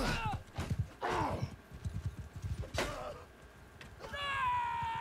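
Horse hooves clip-clop in quick bursts during a Mount and Blade 2 Bannerlord battle, with loud neighing and whinnying calls rising over them, close and busy amid game noise.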